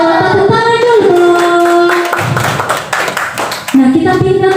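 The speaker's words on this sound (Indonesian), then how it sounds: "Tepuk tangan dulu." A class of children clapping hands together in a classroom, a burst of claps running alongside sung or chanted voices, loud and close.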